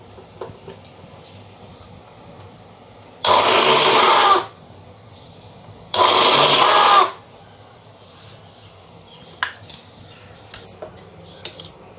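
A kitchen mixer grinder pulsed on and off while grinding ripe red chillies into thecha: two loud, close whirring bursts of about a second each, separated by quiet, followed by a few light clinks.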